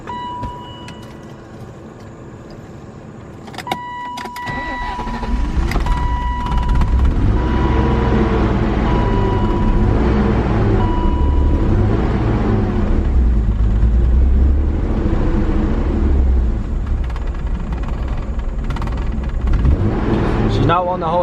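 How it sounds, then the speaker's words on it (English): BMW E36 engine, unstarted for nearly a month, cranks and catches, then runs loud and close with an uneven, wavering idle as it struggles to stay running. Someone talks over it. "she's not wanting to hold idle. I don't know if it's the fuel pump or what."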